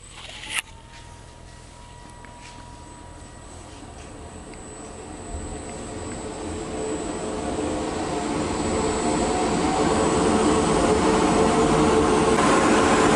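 A loud, steady rushing roar of a Gyro Air G700 dust collector at full suction, swelling gradually after a brief click, with a thin high whine on top.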